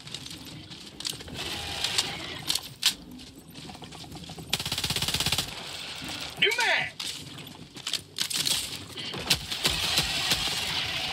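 Rapid automatic gunfire rattles in bursts during a Helldivers 2 battle, mixed with explosions and game effects, while a player talks and exclaims over the action.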